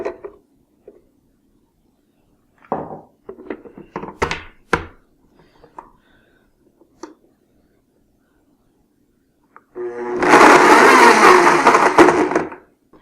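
A kitchen blender mashing strawberries into chunks for popsicles, a loud grinding roar in one burst of about three seconds, preceded by scattered quiet knocks and clatter of handling.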